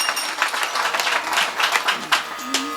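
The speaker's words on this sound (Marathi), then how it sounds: "जाधव महाराजसाठी एकदा जोरदार टाळी वाजवा." Audience applause at a Marathi kirtan honoring Jadhav Maharaj, a steady dense wash of clapping lasting the whole stretch with a few sharper bursts, a voice briefly audible near the end.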